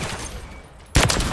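A rifle shot in Modern Warfare 3 gameplay cracks out once, loud and close, after a stretch of low background noise, with a short tail of rumble.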